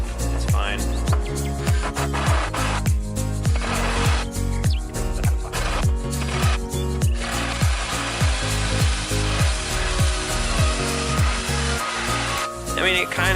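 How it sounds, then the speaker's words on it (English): Hole saw on a drill cutting into a car decklid for a taillight install, a loud continuous whirring grind with repeated rhythmic pulses and scraping, steady throughout, with no speech over it. "that hole saw I'm using with the drill just isn't quite cutting it"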